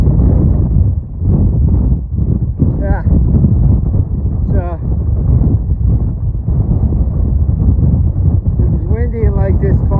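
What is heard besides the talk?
strong wind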